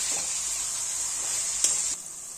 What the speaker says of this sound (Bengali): কিছুক্ষণ কষিয়ে নেব।